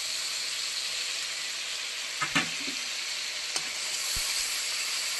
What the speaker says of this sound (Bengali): মশলাটা কষানো হচ্ছে, আপনারা দেখতে থাকুন